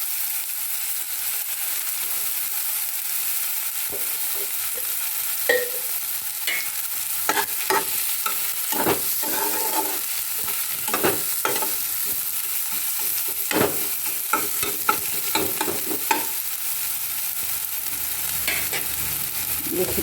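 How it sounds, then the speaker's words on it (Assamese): Finely chopped onion fries in a pan with bay leaf, a constant bright sizzle punctuated by frequent clicks and scrapes of a spatula stirring close by. "আৰু এই পিঁয়াজখিনি অকণ ভাজি ল'ম"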